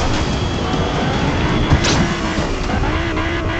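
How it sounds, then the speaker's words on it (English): Engine drone of a car driven in the video game Fortnite, a steady loud broadband rumble throughout with a brief bump near the middle and no talking. "Hop in the car."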